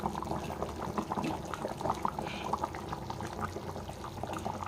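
A pot of Nellore-style fish curry with raw mango pieces bubbling, soft irregular blips and gurgles of simmering liquid, fairly quiet and close.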